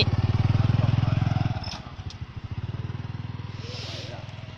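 A motorcycle rides slowly along a roadside, its low engine putting steadily and close by, the pitch dropping and then settling as the rider eases off. Voices talk over it.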